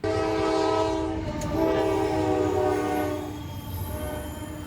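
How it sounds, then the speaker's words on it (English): An eastbound freight train runs along street track at a town intersection, approaching with loud, steady rumbling and horn-like tonal sounds that swell and then ease slightly as it nears, with no voices heard. "This view looking westerly as the train comes towards me, the eastbound."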